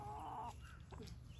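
Free-ranging chickens cluck softly outdoors, a short run of low murmuring calls and a few brief clucks, fairly faint with no voices.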